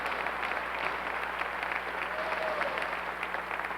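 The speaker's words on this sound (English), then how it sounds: "Your applause, please." An audience at a high school graduation ceremony applauds steadily in a large hall, a dense even wash of clapping from start to finish.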